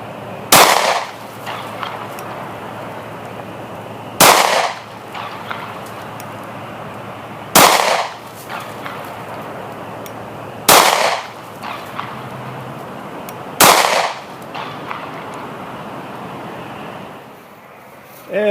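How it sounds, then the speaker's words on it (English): A Smith & Wesson CS9 pistol fires five separate shots spaced a few seconds apart, each a loud, sharp crack with a short ringing decay, heard outdoors at a shooting range. "let's do some shooting"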